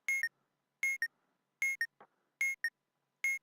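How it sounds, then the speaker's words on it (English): An electronic alarm clock sitting on a table goes off with crisp double beeps repeating about every 0.8 seconds, loud and near, with a faint rustle in one gap. "There's an alarm clock on the table, and it just decided to freak out."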